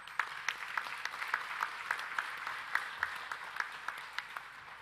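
An audience at a national creatives summit applauds a musician asked to stand. Soft, steady clapping is heard at a distance, with a few sharper claps standing out and no talk.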